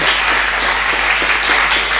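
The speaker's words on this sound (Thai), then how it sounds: "ขอเสียงปรบมือ ให้กับแขกของผมข้างนอกหน่อยดีกว่านะครับ" A television studio audience gives a dense, even burst of clapping, loud and steady for a couple of seconds with no talk over it.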